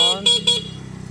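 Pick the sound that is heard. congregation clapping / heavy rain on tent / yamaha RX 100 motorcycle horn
yamaha RX 100 motorcycle horn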